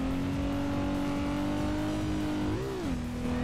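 A BMW 135i with a swapped 2JZ-GTE engine in the SLRR racing game drones loudly at a high steady rev, then briefly dips and climbs as it shifts up a gear.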